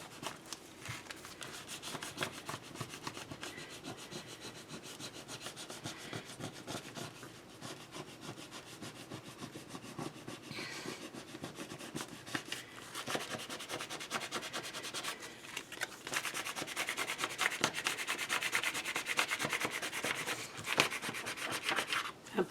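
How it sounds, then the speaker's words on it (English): Cricut vinyl is burnished for a wreath with a tool in steady, rapid scraping strokes that rub close and continuous, growing a little louder and busier toward the end. "I am going to start burnishing this."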